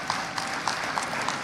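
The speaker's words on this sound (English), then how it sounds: "please give her a round of applause" Audience applause at a university convocation ceremony, a steady wash of clapping from a large crowd with faint periodic accents, sustained evenly throughout.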